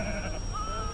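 A sheep bleats in a short, wavering, nasal cry, close and loud over a steady background hum, with no talk.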